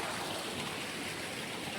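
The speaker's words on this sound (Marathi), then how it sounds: "ही बघा आमची नदी" River water flowing near a village crabbing spot, a loud, dense, steady rushing wash close by, unbroken throughout with no talking.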